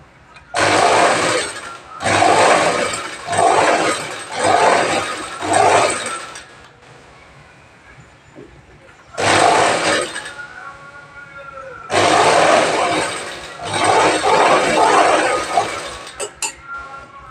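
A sewing machine, said to need some repair, stitches fabric lining for a double-lined kids' garment in loud, steady runs of a few seconds each, with pauses between them and a voice speaking during the quieter stretches.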